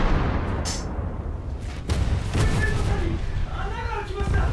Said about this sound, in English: Big hits on the Atlanta with the main guns.